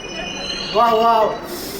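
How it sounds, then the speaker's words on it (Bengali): Kolkata metro train heard in a steady hum, with a brief rising and falling squeal of wheels or brakes in the middle, fairly close and moderately loud. "প্রথমবার মেট্রোতে উঠছি"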